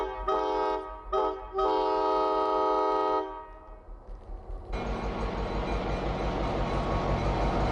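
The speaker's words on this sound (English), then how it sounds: "the big diesels, like this triple CSX unit, can pull over 100 coal gondolas" A triple-unit CSX diesel freight train blasts its horn in several long, loud sustained blows, then the heavy engines and cars roar past close by in a steady wash of rumble and clatter.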